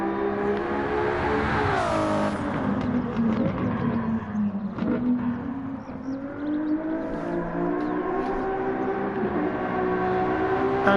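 A race car in Gran Turismo 7 takes corners with a steady, loud engine drone whose pitch sags and climbs as it brakes and accelerates, including one sharp rev rise early, with no talking.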